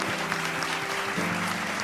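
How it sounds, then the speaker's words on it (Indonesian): A studio audience on an Indonesian television show claps, a brief steady burst of applause over a faint sustained musical tone. "Kita berikan tepuk tangan dong."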